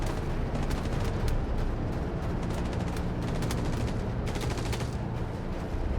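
Dense, sustained gunfire in the video game Star Citizen, with rapid overlapping shots and bursts crackling continuously at a loud, steady level throughout.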